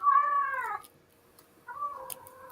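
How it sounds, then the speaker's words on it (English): A cat meows twice, a long, loud, close meow followed by a shorter, softer one after a brief pause, with no talk over it. "my God, cat."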